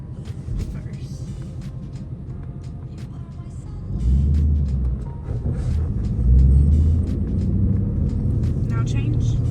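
An S197 Ford Mustang GT with a manual MT-82 gearbox pulls away in first gear. A low engine rumble heard from inside the cabin swells twice, with quiet voices present.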